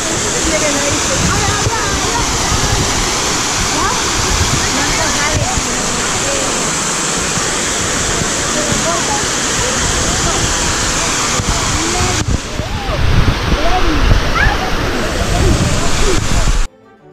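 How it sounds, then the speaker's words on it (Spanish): The Cascada Nueva fountain in the gardens of La Granja de San Ildefonso, Segovia, pours with a loud, steady rush of falling water that roars without pause throughout. "Estamos aquí ante la Fuente de la Cascada Nueva"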